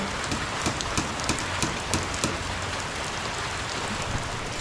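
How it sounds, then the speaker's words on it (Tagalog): Steady rain falling outdoors in a residential setting, a dense continuous hiss with scattered louder drops tapping nearby surfaces, no voices. "Hindi na ako pwedeng lumabas kasi naulan."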